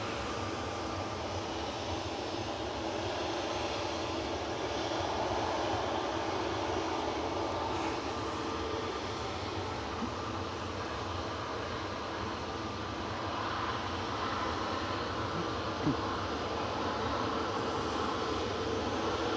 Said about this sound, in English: A350 1000 coming in.